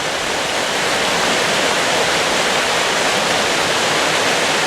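Water rushes continuously in a dense, steady hiss, like a fast stream or small waterfall close by, with no voices.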